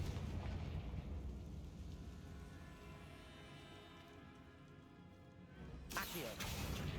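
The explosive Confringo spell from Hogwarts Legacy goes off as one sharp, loud blast near the end, after several seconds of quiet, steady ambience.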